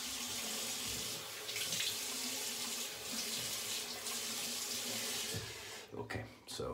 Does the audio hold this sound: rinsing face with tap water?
yes